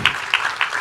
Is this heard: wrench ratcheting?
no